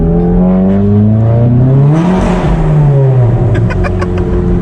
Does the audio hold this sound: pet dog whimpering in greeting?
no